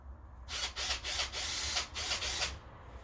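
A ratchet with a 10mm socket backing out valve cover bolts on a Volvo redblock engine, a close, rapid clicking pawl sound in several quick bursts with short pauses between strokes.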